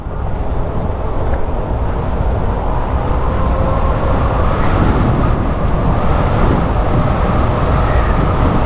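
Zero SR/F electric motorcycle ridden in sport mode, giving a steady, loud rush of wind and road noise with a faint motor whine underneath, continuous throughout with no pauses.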